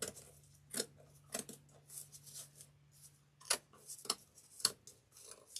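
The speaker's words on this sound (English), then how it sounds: "So I'm just trimming the excess burlap." Scissors snip through excess burlap while a turkey door hanger is made, a series of sharp, separate clicks and cuts spaced irregularly, close and quiet, with a faint steady hum underneath.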